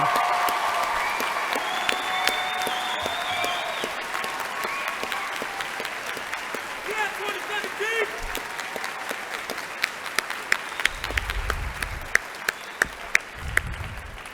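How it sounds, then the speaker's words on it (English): A round of applause from the audience at a university graduation ceremony honoring newly graduated students, steady crowd clapping that runs throughout, fairly distant in a large hall, with a few sharper claps standing out near the end. "Join me in a round of applause for all the students that just graduated"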